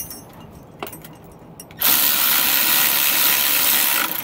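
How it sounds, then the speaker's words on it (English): A 9/16 socket driven onto U-bolt hardware while fitting a steering stabilizer on a 2004 Ford, a few light metallic clicks and then a steady loud whirring power-tool run lasting a couple of seconds, close up. "We're going to use a 9/16 socket for these pieces of hardware here on these U-bolts."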